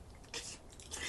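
Close, quiet chewing of food with soft crunches and wet squishing bites in a short burst, no talking.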